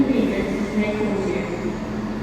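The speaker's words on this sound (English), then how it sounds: "Midlands Railway 170 going to Newark Castle" East Midlands Railway Class 170, a two-coach diesel unit, passing through Stoke-on-Trent station: a steady, fairly loud low rumble and hum that continues throughout, with some faint background voice.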